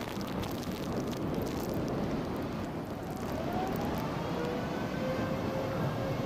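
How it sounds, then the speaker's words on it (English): Atlas V rocket carrying the Viasat-3 satellite lifting off, a steady, dense broadband roar with deep low-end rumble sustained throughout, loud and continuous without pauses. "liftoff of the United Launch Alliance Atlas V rocket carrying Viasat-3 Flight 2"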